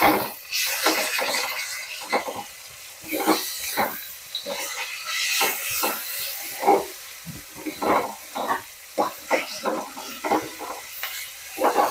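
Garlic paste fries in a pan for Bengali mutton kosha, giving a close, uneven sizzle and hiss in repeated spurts with intermittent stirring scrapes and no speech.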